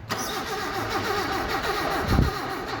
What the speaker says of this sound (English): It's not cranking very fast, is it? It almost fired.